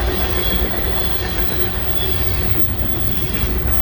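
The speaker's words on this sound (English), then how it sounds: "That's a long train." A long freight train's cars roll steadily past nearby, a loud, unbroken rumble with grinding and a thin squeal from the wheels.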